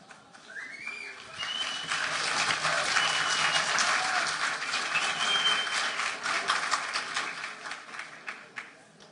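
Conference audience applauding at an evening talk on memory and learning, a dense steady wash of clapping that swells over several seconds and tapers off at the end, with a few faint voices mixed in.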